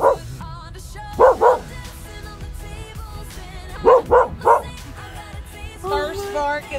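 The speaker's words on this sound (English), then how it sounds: "First bark of the trio." A dog barks in quick bursts of two or three, close by, over background music and a moving vehicle's hum.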